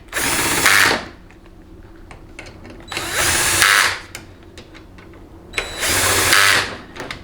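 A power tool on a low setting runs bolts down on a Ford 6R140 valve body in three short whirring bursts, each about a second long with quiet gaps between, close up.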